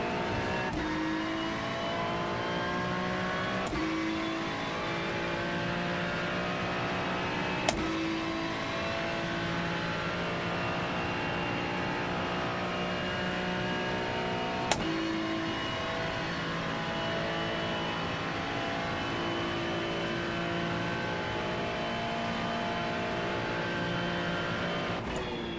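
A GT3 race car engine at Le Mans in iRacing drones on at high revs, shifting pitch through gear changes with a few sharp clicks, steady and unbroken for the whole stretch.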